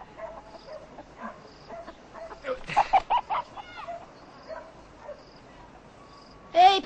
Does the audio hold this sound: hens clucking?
yes